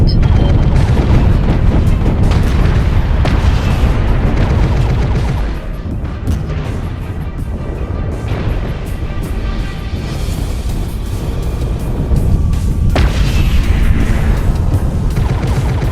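Mech weapons firing in MechWarrior Online, producing a loud, continuous rumble of heavy booming shots and impacts, with louder surges at the start and near the end.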